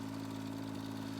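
A small tractor engine idles steadily in Farming Simulator 19, a low, even hum with a faint knock, constant and close with no voices.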